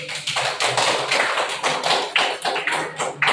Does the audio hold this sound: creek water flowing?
no